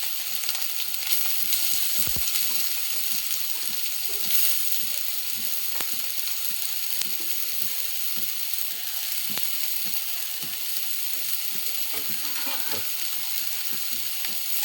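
Chopped banana stem, squeezed of water, frying in a little oil in a pan, with a steady close sizzle and occasional stirring scrapes throughout.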